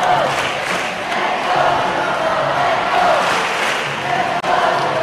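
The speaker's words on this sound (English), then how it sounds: "A lot of cheering by the Singapore crowd for Singapore." Singapore supporters roar at a football final against Thailand, a loud continuous stadium crowd din of cheering and shouting that swells and holds for several seconds.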